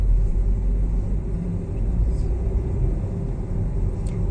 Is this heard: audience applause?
no